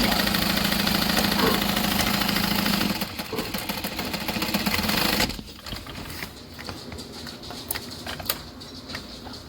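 A sewing machine runs in a steady mechanical whir while stitching a seam in canvas for a handbag, the motor loud and continuous for several seconds before dropping to a quieter, sparser hum with faint ticks.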